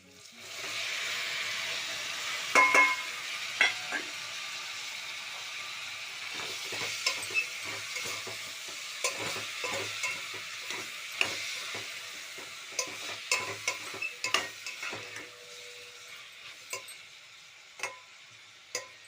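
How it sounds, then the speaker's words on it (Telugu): Tomatoes hit a frying pan for a Telangana-style egg curry, setting off a steady sizzle with scattered ticks and scrapes of stirring, close and moderately loud, no voices. "ఇప్పుడు మనం టమాటాలు వేయాలి"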